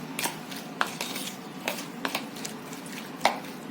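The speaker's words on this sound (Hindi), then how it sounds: "इसे हम ठीक से पूरी तरीके से मिक्स कर लेंगे।" Bhel ingredients being mixed for street-style oli bhel, giving soft scattered clinks and wet squishing scrapes of a spoon in a bowl, with a few sharper taps, close and fairly quiet.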